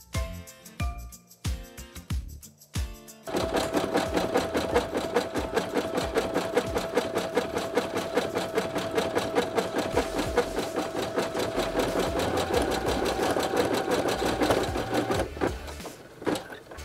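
An embroidery machine satin-stitches a Halloween brain applique, running as a steady, fast, close mechanical whir after a few brief clicks and taps at the start.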